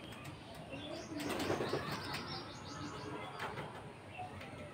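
A pigeon beats its wings in a short burst of flapping near the listener, then a few softer flutters follow. The sound is fairly faint overall and no one speaks.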